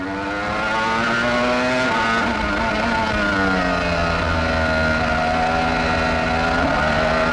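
Formula 1 race cars at the 1995 Spanish Grand Prix, engines screaming at high revs in a loud continuous whine that shifts pitch with gear changes as cars pass close by.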